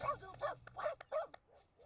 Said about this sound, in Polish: Nie szczekaj na to, tylko ćwicz.